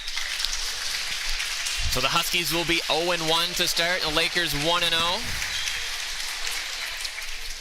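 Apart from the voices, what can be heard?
applause after volleyball match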